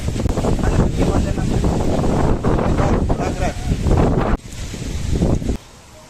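Strong wind buffets the microphone on a UK farm, a loud, rough continuous roar that gusts and drops abruptly near the end, with people speaking over it.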